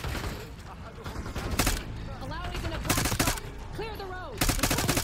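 Rapid bursts of gunfire from Call of Duty: Black Ops 6 crack loudly and repeatedly throughout, with a commentator's voice talking over the shooting.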